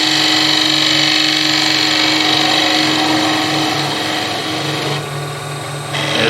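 A wood lathe spins steadily as a skew chisel takes very light V-cuts on the top side of a turned top, producing a constant close whirring hum with a faint scraping texture and a slight change in tone toward the end.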